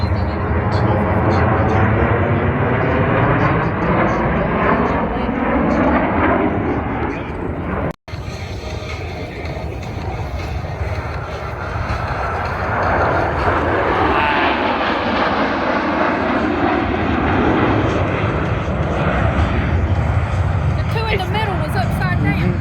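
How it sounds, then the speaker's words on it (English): Blue Angels jets at the MCAS Beaufort airshow roar past loudly. A broad, sweeping engine rumble rises and falls with a doppler-like swoosh, and spectators talk over the noise throughout. "Blue Angels 5 and 6 are approaching the flight line at 400 miles per hour"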